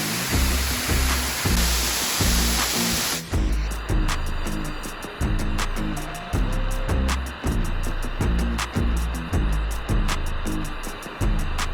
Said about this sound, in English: So we got to the waterfall.